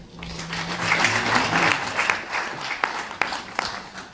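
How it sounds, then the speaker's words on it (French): An audience at the opening of a short-film festival in Paris breaks into sustained applause, steady and fairly loud, with a few sharper individual claps standing out toward the end. "Et applaudissements pour Serge Glissant"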